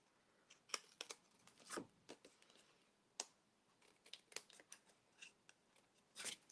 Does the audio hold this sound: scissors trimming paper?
yes